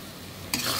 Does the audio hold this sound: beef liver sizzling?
yes